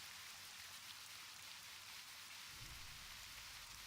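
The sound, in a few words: rain in the video game World of Warcraft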